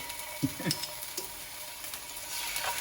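Minced garlic fries in a pan, a soft crackling sizzle with a few brief stirring scrapes, close and fairly quiet, without voices.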